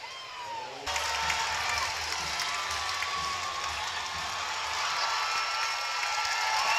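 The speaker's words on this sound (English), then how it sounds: "That's one of our employees who gets the major round of applause." A baseball crowd at Toyota Field cheers and applauds during a Rocket City Trash Pandas game, a broad, sustained wash of clapping and crowd noise that starts suddenly and holds steady.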